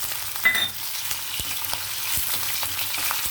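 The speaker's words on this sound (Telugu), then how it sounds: "కొంచెం రొయ్యలు ఫ్రై అవ్వనిద్దామండి కొద్దిగా వేగాలన్నమాట ఇవి ఆయిల్లో వేగితే బాగుంటాయి" Prawns fry in hot oil in a pan for a ridge gourd curry, giving a continuous close sizzling hiss with a couple of brief clicks near the start and no speech.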